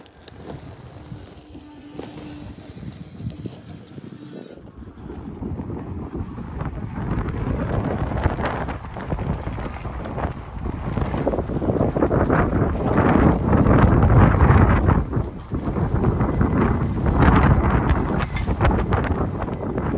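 Strong outdoor wind buffets the microphone in a deep, roaring rumble that builds and surges in gusts, loud and continuous, near a trail with logs on an all-terrain e-bike ride.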